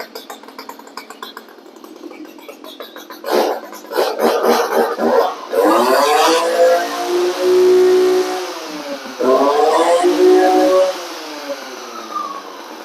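A small two-stroke engine on an FS 561 clearing saw is started and revved, rising to a loud, throaty, chainsaw-like whine, dropping briefly, then revving high again, close by.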